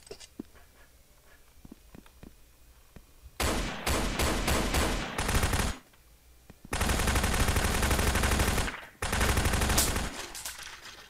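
Gunfire from a pistol and a machine gun in the online shooter BRAIN OUT: a few faint single shots, then loud rapid bursts of automatic fire in three long stretches with short gaps.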